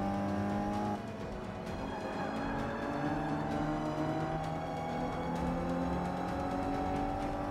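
A car engine in Forza 5 driving through a tunnel, a continuous loud drone with rising and falling engine tones that shift as the car accelerates, sustained for the whole stretch without talk.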